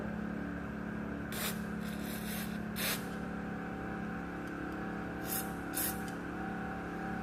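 Short hissing bursts of carburetor cleaner sprayed over a carburetor, a few quick blasts separated by pauses, over a steady low mechanical hum.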